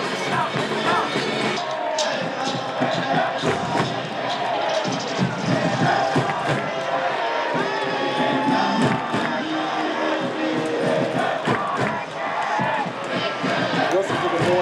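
Loud, vocal crowd at a soccer stadium for a Detroit City FC match at Chattanooga FC, with dense, continuous roaring, cheering and chanting from supporters throughout.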